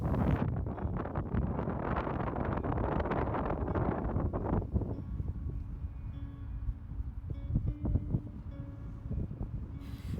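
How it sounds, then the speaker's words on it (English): Heavy wind buffets the microphone with loud rumbling gusts that ease partway through, leaving a lighter, fluttering rush. "it was super windy, like blowing all over"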